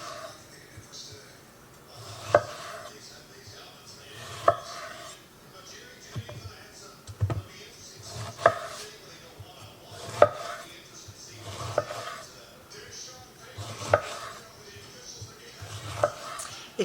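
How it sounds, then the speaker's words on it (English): A knife slices peeled eggplant thinly on a cutting board, with regular sharp taps about every two seconds. A person speaks over the steady cutting rhythm. "We're going to slice them pretty thin."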